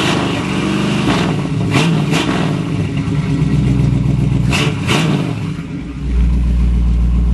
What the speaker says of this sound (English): Notice it's got that great throaty exhaust system.